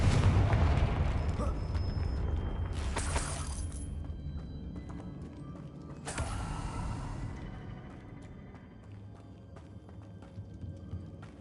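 Two sharp broadband blasts from the Confringo fire spell in Hogwarts Legacy on PS5, each bursting loudly then fading, over a low background rumble with no talk.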